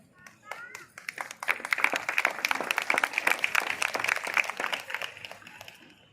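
A crowd applauding, dense clapping that swells and holds steady for several seconds before tapering, with a voice briefly heard early on.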